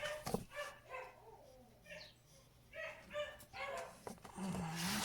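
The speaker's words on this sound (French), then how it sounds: "Les chiens qui font le raffut." Dogs barking nearby in a home, a run of sharp repeated barks with yips and a whimpering whine, moderately faint and irregular in rhythm, no voices over them.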